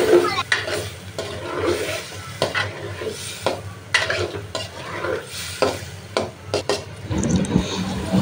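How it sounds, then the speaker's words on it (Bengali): A spatula stirs food frying with turmeric and salt in a pan, with a repeated scraping rhythm over a steady sizzle, then a louder hiss near the end as water goes in. "হলুদ আর লবণ দিয়ে নেড়ে চেড়ে নিচ্ছি।"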